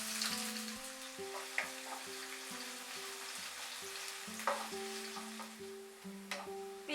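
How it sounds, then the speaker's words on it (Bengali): Large chopped onion frying in well-heated oil, a soft steady sizzle running throughout under a faint tonal background, with occasional stirring clicks. "তেলটা খুব ভালো মতো গরম হয়ে গেলে আমি একটা বড় সাইজের পেঁয়াজ কুচি এর মধ্যে দিয়ে দেব।"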